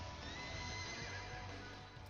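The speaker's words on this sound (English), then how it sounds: "You ever seen a scared horse?" A frightened horse neighs in Shin Megami Tensei V: Vengeance, a loud, sustained whinny with a quivering, wavering pitch that fades slightly toward the end, alongside faint hoof clops and no speech.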